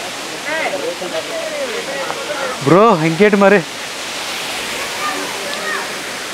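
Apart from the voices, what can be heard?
waterfall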